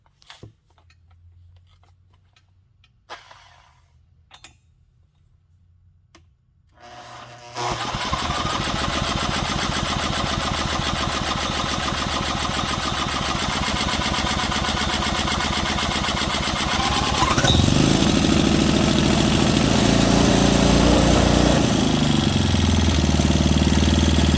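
A scrap-heap Honda engine runs at wide open throttle: after a few faint clicks and quiet moments, it catches and roars steadily and loudly, rising to an even harsher, louder pitch partway through, with no talk.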